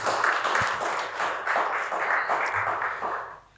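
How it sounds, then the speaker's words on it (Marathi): Audience in a Marathi lecture hall clapping to welcome Professor Avinash Sapre, a moderately loud, steady wash of hand claps lasting a few seconds before fading at the end. "सर्वांनी जोरदार टाळ्या वाजवून स्वागत करावं"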